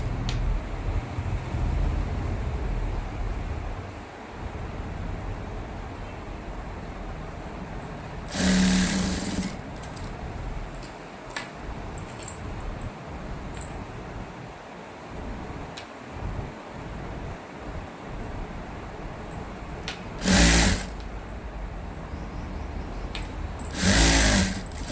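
A sewing machine stitches a patch onto a nighty in a long continuous hum. Brief louder bursts of faster stitching stand out, and there are faint handling noises in between.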